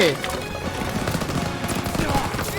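Continuous rattling machine-gun fire fills a Call of Duty WWII battle, with dense rapid shots and sharper cracks near the end. A player talks over the shooting throughout.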